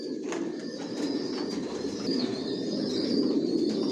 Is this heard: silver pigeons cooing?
yes